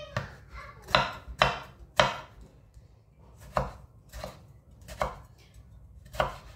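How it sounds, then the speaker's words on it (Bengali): A knife chops fresh coriander leaves on a board in quick uneven bursts, about ten sharp close knocks spread out with short pauses, no talking. "ধনিয়া পাতাগুলো কেটে নেব।"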